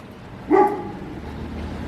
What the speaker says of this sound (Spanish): ahí hay un perro